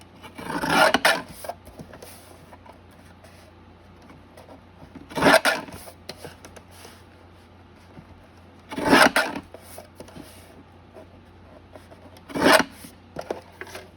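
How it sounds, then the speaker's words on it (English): A deckle edge trimmer rasps along the edges of paper, producing four separate scraping strokes spaced a few seconds apart, close and distinct against a quiet background. "I'm just going to deckle the edges and trim it down."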